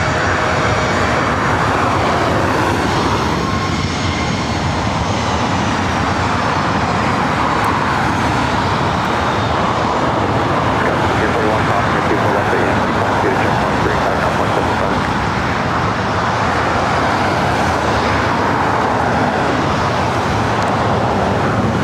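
An Aer Lingus airliner at LAX airport produces a loud, continuous jet engine roar lasting the full stretch, with broad rumbling noise and no pauses.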